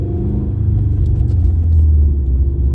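A Toyota GR86 sports car driving with a low, steady engine rumble and road noise from inside the cabin, swelling slightly as it pulls away, with no talk.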